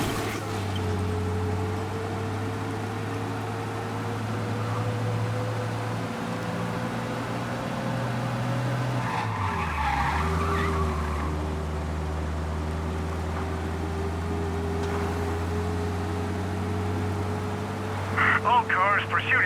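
A car racing along at speed in Mafia: Definitive Edition: a steady, loud engine drone whose pitch dips sharply partway through, then settles back; no distinct tire squeal stands out.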